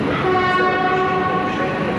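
A train at a busy Polish railway station with many delayed trains: a loud, steady rail rumble with sustained horn-like tones ringing over it throughout.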